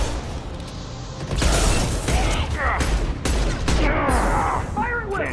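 Rapid gunfire from a weapon in the video game Mass Effect 2 fires in a sustained loud burst during combat, mixed with sharp mechanical and impact sounds while a person talks over it.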